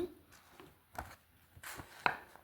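Paper being cut with scissors while making a paper Labubu figure, a few soft, separate snips and crisp rustles close by, the last cut the sharpest, with no talk.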